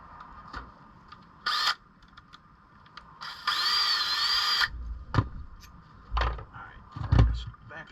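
An impact wrench works on the power steering pump of a 2003 Chevrolet Tahoe, firing in several short bursts with one longer whirring run in the middle, close by with quiet pauses between.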